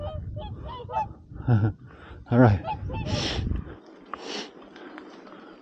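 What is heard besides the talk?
turkeys calling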